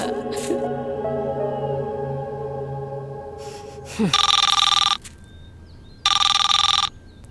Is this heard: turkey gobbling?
no